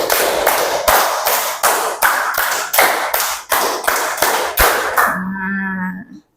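A class of pupils claps in unison to a counted pattern of three then five, crisp claps in rhythmic bursts with short pauses between groups, ending with a brief drawn-out tonal sound as the clapping stops.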